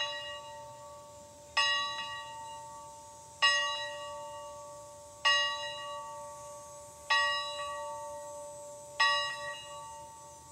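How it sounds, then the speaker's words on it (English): A single church bell tolls five times at steady intervals of about two seconds to call a congregation into worship, each clear strike ringing out and decaying before the next, with no voices. "And now our sister Peggy is going to ring the bell for us as we enter into worship"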